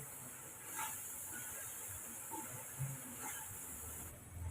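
Chicken with onion, garam masala and chili flakes sautés in a pan, giving off a soft, continuous sizzling hiss with a few faint pops and stirring sounds, no voice.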